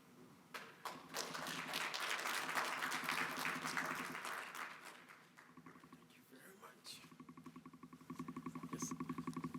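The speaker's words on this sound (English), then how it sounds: "Please, another round of applause for them." Audience applause builds and fades over several seconds, followed by softer, rhythmic clapping, with faint voices mixed in.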